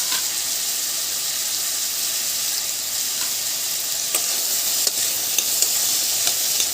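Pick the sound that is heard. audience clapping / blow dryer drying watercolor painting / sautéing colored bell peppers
sautéing colored bell peppers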